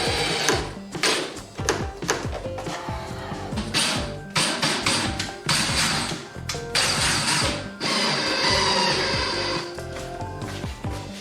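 A power drill drives trim screws into pre-drilled holes through trim into stud framing, giving loud, close whirring bursts that start and stop repeatedly with short pauses between.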